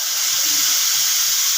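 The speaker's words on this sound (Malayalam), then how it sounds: "അരക്കപ്പ് വെള്ളം ഒഴിച്ച് ഇളക്കി എടുക്കുക." Half a cup of water pours into simmering curry masala in a pan, giving a short, steady hiss and splash with a faint gurgle underneath.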